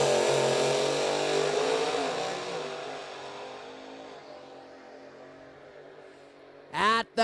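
A drag racing car at the start line, its engine blasting loudly then fading into the distance down the track, followed near the end by another sharp rising revving burst, with a commentator talking over it.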